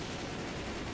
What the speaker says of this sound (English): You put the fireworks on me, no!